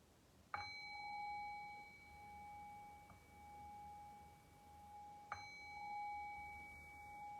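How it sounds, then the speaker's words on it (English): A meditation bell is struck twice, each clear ring decaying slowly into a long sustained tone, quiet and close in a calm, still room. "I'll cue that by ringing the bell 3 times."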